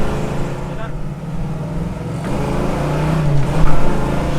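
A classic car engine with a four-barrel carburetor runs steadily and loudly close by, its rumble rising slightly as it shifts, while a voice talks over it.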